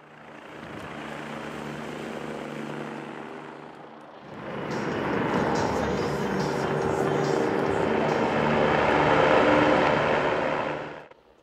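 A rescue helicopter flies over a 100-mile endurance race trail, its steady engine and rotor drone rising louder after a few seconds and holding close before fading at the end.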